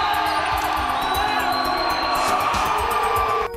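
A futsal crowd cheering after a goal at a men's championship final in Abel Figueiredo, a loud, sustained roar of cheers and whoops with rhythmic drumming or banging underneath.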